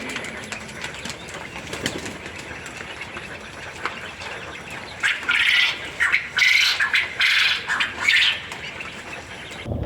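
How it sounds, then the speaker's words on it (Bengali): Seventeen-day-old quails on a farm call loudly in a chorus of sharp, squawking bursts that build and grow louder through the second half, close by with steady background noise and no talk. "পুরুষ পাখিগুলো প্রচুর জোরে ডাকাডাকি করে এবং অনেক লাউডলি সাউন্ড করে"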